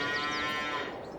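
Cattle moo in the farming game Farming Simulator 22, a single drawn-out low bellow heard clearly and close, fading slightly at the end.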